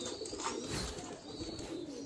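King and show pigeons bathe at a Bangladeshi pigeon farm, with soft cooing and faint wing flutters over steady background noise.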